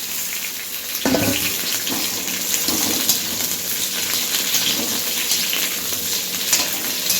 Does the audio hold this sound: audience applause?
no